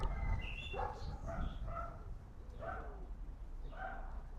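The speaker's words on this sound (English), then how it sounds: "I do have dogs barking and quite a lot of wind blowing." Several dogs bark outdoors, sharp yelping barks coming in irregular bursts, mid-distance against a constant low rumble of wind noise.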